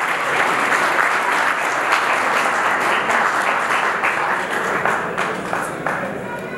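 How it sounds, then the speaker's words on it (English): A round of audience applause welcoming a speaker to the podium at a peace event, dense steady clapping from a crowd that holds strong throughout and tapers slightly toward the end. "So please help me welcome him to the podium with a round of applause."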